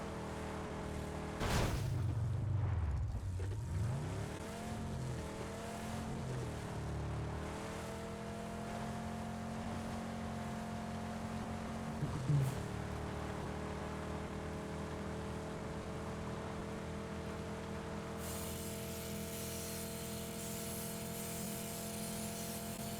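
A car engine in PUBG drones steadily throughout, with revving pitch changes and brief surges as the vehicle accelerates and shifts, plus a few bumps and knocks over continuous engine hum.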